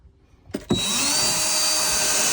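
A power drill drives a self-tapping screw into the metal body of an Audi A6 C5. A couple of quick knocks lead into a loud, steady, close whine that carries on alone.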